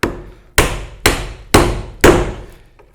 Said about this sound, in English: to chop the end grain first when you get to the ends of a mortise like that